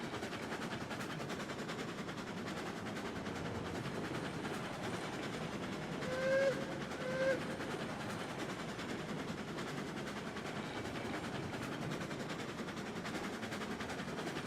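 A steam locomotive in the game Railroads Online runs at a low, faint, steady chuff and rumble, with two short whistle-like tones midway.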